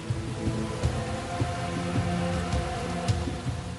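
Torrential rain pours down in a dense, steady hiss of drops striking surfaces, with faint low rumbles beneath and no voices.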